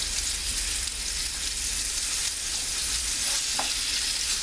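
Oxtail browning in a hot pan for soup gives a steady, dense sizzle that stays even throughout, close and moderately loud, with one brief crackle near the end.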